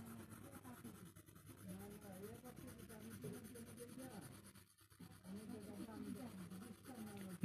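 A pencil shades a circular shape on paper with a continuous scratchy rubbing, close and fairly quiet, its back-and-forth strokes pausing briefly about two-thirds of the way through.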